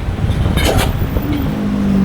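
Busy road traffic of tricycles, cars and motorcycles heading toward Mactan Bridge, a dense mix of engine rumble and passing vehicles with a brief louder whoosh early on and a low engine hum building near the end.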